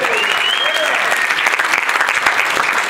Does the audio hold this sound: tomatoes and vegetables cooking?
no